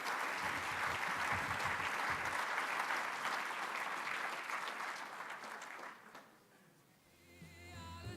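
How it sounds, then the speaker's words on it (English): Audience applause for award-winning chamber champions at an energy event, a loud sustained clapping that fills the room for about six seconds, then fades to scattered claps and quiet. "please take this opportunity for a round of applause for those GNDC chamber champions"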